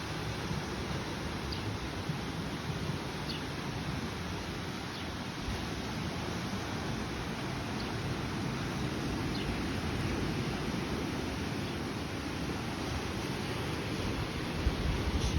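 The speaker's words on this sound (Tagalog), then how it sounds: "Tama-tama lang yung alon, may enjoy mo ang dagat," Steady broadband wash of sea surf at a beach resort, a continuous even roar with little variation and no distinct breaking crashes, heard alone without voices.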